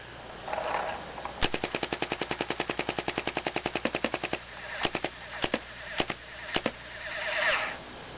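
A Spyder Pilot ACS paintball marker fires a rapid burst of about two dozen sharp, evenly spaced pops, followed by a handful of slower single shots, close and loud with no talking.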